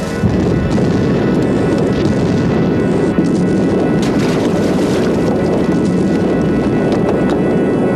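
A big controlled explosion roars as a loud, continuous wall of low rumbling and crackling noise that stays heavy and unbroken throughout, with no voices.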